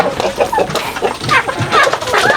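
Chickens cluck in short, busy bursts close by, a steady jumble of clucks with faint background noise.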